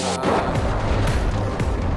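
A loud, close explosion in a fantasy monster movie, where spilled experimental chemicals react and blow up a lab, a dense roaring blast with crashing debris that fills the short moment.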